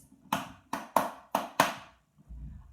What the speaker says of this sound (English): when you clap them, they all sound the same